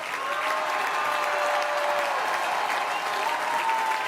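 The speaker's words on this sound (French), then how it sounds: "Oui, vous pouvez applaudir." Applause from a crowd at a La France Insoumise political rally in Saint-Denis, a steady dense wash of clapping lasting throughout with no pauses, loud and evenly sustained.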